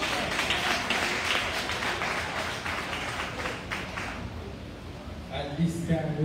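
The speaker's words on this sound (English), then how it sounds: "Give him another round of the encouragement." Applause from a church congregation at a Church of God service in Jamaica, a broad steady wash of clapping that runs the whole time and gradually thins toward the end, with some voices mixed in.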